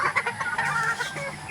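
Roosters and hens gathered at feeding time, a short burst of close, overlapping clucks and honking squawks from several birds at once.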